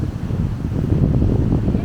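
Steady low rumbling wind buffeting the microphone, loud and continuous, with a faint wash of rough, wavy water beneath it.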